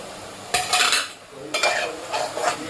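Tomato paste, turmeric and garam masala are stirred together in a pan, with two bursts of loud scraping and clattering over a light sizzle. The sound is close.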